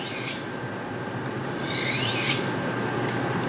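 A knife blade is drawn along a diamond sharpening rod in smooth, rasping strokes, close and clear, with a steady metallic hiss and a couple of swelling sweeps.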